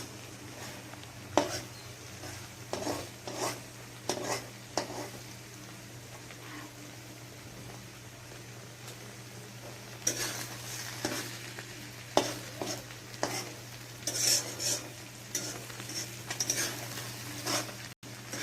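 An egg fries next to onions pushed to one side of a pan, a steady sizzle running throughout with scraping stirs and occasional clinks of utensil on metal, close and fairly loud, no voices.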